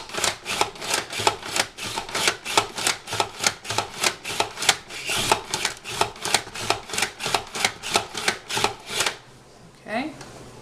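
A sliceOmatic hand-operated vegetable slicer cuts zucchini with fast, evenly spaced clacking strokes, each a sharp near chop in a steady rhythm for about nine seconds before stopping.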